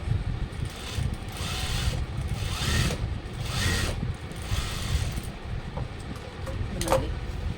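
A sewing machine runs steadily, stitching fabric for a gown with a dense mechanical whir and slight pulsing rhythm, close by, with no talking.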